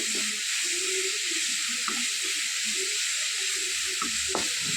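Onions fry on a high flame in a pan, a steady bright hiss of oil throughout, with a few faint spoon clinks and scrapes underneath.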